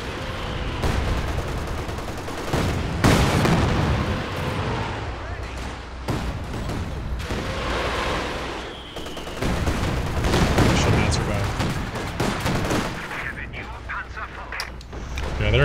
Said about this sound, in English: I despise MG42s.